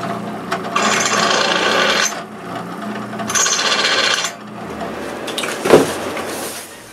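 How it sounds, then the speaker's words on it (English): Hand file rasping along the edges of metal sheets in a workshop, in two long bursts of steady back-and-forth strokes, close and fairly loud, followed by a sharp clank. "After that, I clean the edges with a file"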